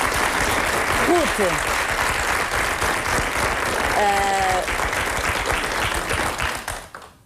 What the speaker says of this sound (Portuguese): Um aplauso, eu pedi um aplauso.